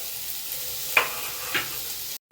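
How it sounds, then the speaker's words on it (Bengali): Onions sautéing in a pan with salt and turmeric give off a steady, soft sizzle, with two brief spatula scrapes standing out near the middle before the sound cuts off abruptly. "পেঁয়াজ কিন্তু খুব বেশি ভাজবো না লাল লাল করে জাস্ট একটু সেতলে নিলাম নরম করে নিলাম লবণ দিয়ে"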